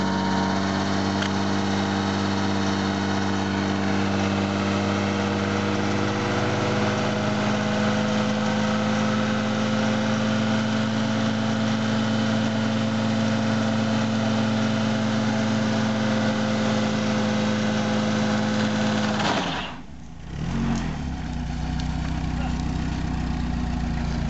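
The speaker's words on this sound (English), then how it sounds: "The motor's making some horrible noises." Car engine running roughly and loudly through a burnout, with a steady strained drone and harmonic whine that cuts out abruptly near the end before resuming.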